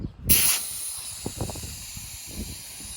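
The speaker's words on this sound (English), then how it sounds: "It's blowing a lot of air." A sharp burst of rushing air starts abruptly and settles into a steady hiss, with faint low thumps and rattles underneath.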